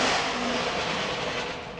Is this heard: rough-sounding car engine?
yes